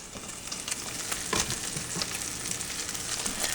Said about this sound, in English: so I'll cook the garlic chips in with the bacon